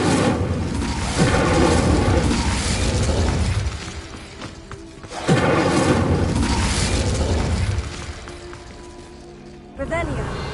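An Incendio fire spell is cast in the video game Hogwarts Legacy. It produces loud, dense, crackling bursts of flame in two big surges, each fading back to a lower rumble of game effects.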